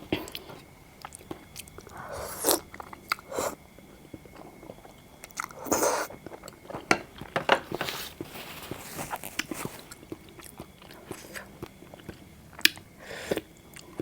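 Crunchy radish is chewed with a salmon noodle salad, giving crisp bites and moist mastication in irregular bursts. The sounds are close and clear over a quiet background.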